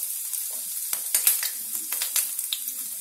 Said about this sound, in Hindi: पहले हरी मिर्ची को भूनेंगे। और अब हम बाकी के मसाले डालेंगे